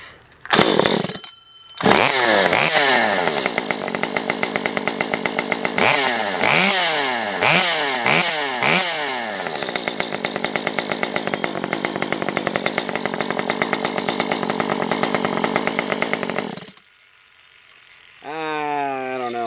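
A Stihl MS 194T chainsaw fitted with an exhaust baffle roars at full throttle for a long stretch after short bursts, a harsh buzzing drone close by, then drops off and restarts.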